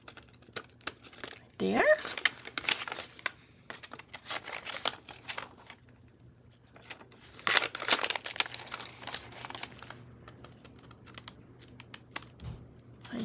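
Paper being trimmed while making signatures for a handmade junk journal, with crisp crinkling and cutting sounds in short close bursts, strongest around two moments, while a person speaks briefly.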